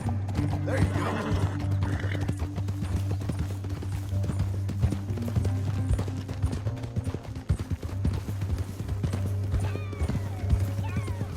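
Horse hooves clip-clop steadily with neighs and whinnies from horses in Red Dead Redemption 2, running throughout over a low steady rumble and music, with some talk mixed in.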